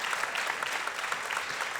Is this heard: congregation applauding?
yes